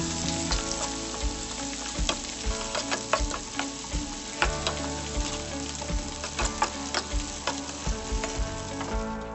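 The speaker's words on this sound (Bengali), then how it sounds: "তারপর মাছ ভাজা তেলেই পেঁয়াজ কুচি দিয়ে দেব। সুন্দর করে নাড়িয়ে নেব।" Chopped onions frying in leftover fish-frying oil while being stirred, a continuous sizzle punctuated by regular scraping and clacking strokes of a spatula against the pan, close and fairly quiet.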